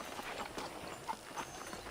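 Horse hooves clip-clop at a steady riding pace in the Western video game Red Dead Redemption on PC, a continuous rhythmic patter of hoofbeats over a noisy background with no clear talk.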